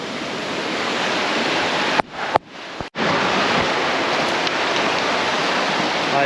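A brook near Bains Brook waterfalls on the Kluscap trail rushes toward the ocean as a loud, continuous roar of water. The sound breaks off briefly a few times near the middle, and no one speaks.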